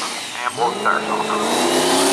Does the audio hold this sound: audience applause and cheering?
no